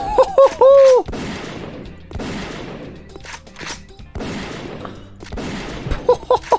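Rapid gunfire from guns in a Mario video game mod, with loud bursts of shots and explosive cracks repeating over several seconds, broken up by cartoonish game sound effects at the start and end.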